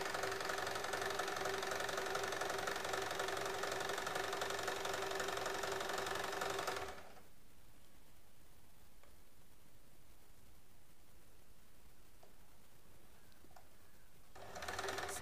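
A sewing machine runs steadily and close by, stitching pieces of fabric for a child's tiered frock, then stops abruptly about halfway through, leaving near silence before a brief restart at the end.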